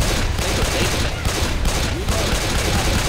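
Rapid, dense gunfire in the zombie shooter Left 4 Dead 2, a continuous loud barrage of overlapping shots filling the whole stretch without pause.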